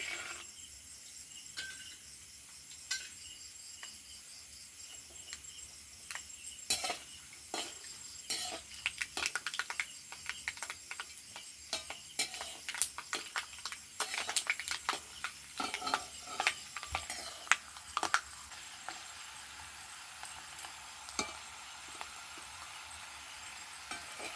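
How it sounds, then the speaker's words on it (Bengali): Peanuts sizzle quietly in a pan, with frequent scraping and clinking of a stirring spoon against metal, no talking. "এবার আমি বাদামটা ভেজে নেব"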